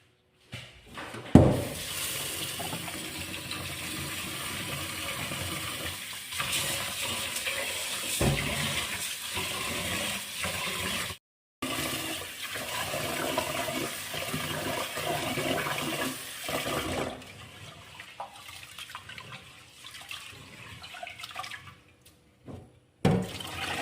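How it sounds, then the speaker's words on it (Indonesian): Glutinous rice is washed by hand in a basin of water: sloshing, swishing and rubbing go on for over twenty seconds, with a few short pauses and occasional splashy bumps. "sekarang kita menyuci ini beras ketannya terlebih dahulu. Ketannya kita cuci sampai dia benar-benar bersih ya"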